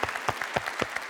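An audience at a talk on philanthropy applauds, with a brief, dense patter of many hands clapping at a steady, moderate level and no speech over it.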